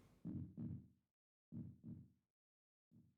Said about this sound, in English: It's just a heartbeat, by the way, it's normal.